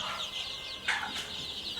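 Chickens cluck and peep in a poultry house, with a couple of short higher calls standing out over a continuous busy background of birds.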